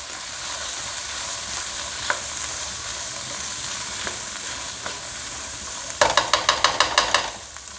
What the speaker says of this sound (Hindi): इस तरीके से अच्छे तरीके से अब इसको मिक्स कर लेंगे।